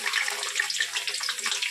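Pieces of eggless omelette frying in hot oil, giving a steady, dense crackling sizzle that holds at one level throughout without a pause.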